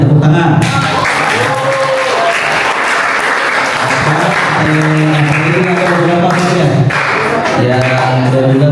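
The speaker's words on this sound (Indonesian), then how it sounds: "Tepuk tangan." Applause fills a motivational class at Ponpes Ar-Rahman, an Islamic boarding school in Sukabumi, running steadily for about nine seconds with voices and tonal sounds layered over the continuous clapping.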